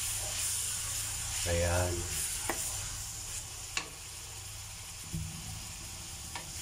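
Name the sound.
meat frying in its own fat in a pan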